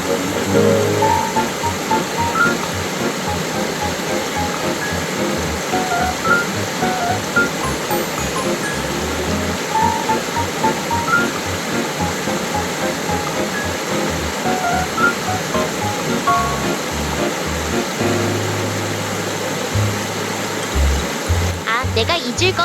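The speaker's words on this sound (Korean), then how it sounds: "작은 폭포로 이어져 있네" A constant rushing of water falling over a small waterfall in a valley stream, close and loud, with a few low bumps and shifts throughout.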